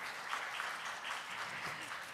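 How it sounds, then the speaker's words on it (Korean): Quiet applause from an audience after a presentation on hydrogen business strategy at an energy conference, a faint steady patter of clapping heard from a distance. "박수 부탁드리겠습니다"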